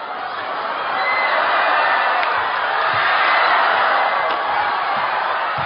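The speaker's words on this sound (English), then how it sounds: "Listen to the crowd." Spectators at a 2008 Hong Kong Open men's doubles badminton match roar and cheer in a sustained, swelling wave of crowd noise that builds and stays loud throughout.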